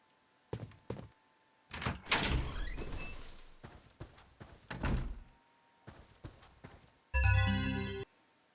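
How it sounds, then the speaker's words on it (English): Door opening in the video game Clock Tower 3: a series of clunking, sliding mechanical thuds and scrapes in short bursts, ending in a louder resonant tonal clang, with no talking. "Door."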